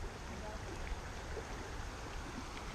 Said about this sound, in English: Nice cold water stream, looks nice and clean.